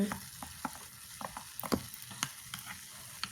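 A spoon stirs a red soda drink in a glass, making irregular, close, light clinks and taps against the sides over a soft fizzing background, with no voices.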